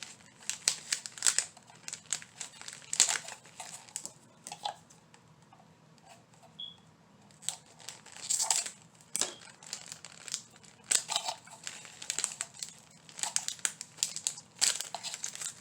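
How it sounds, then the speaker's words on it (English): Crinkling plastic packaging torn open while making Dollar Tree Easter crafts, with repeated close, sharp crackling bursts and rustles coming in irregular clusters, no talking. "I wish there was an easier way to get these open where it didn't take so long. And all that crinkling sound."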